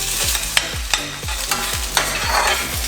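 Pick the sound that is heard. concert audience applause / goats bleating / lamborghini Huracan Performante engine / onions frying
onions frying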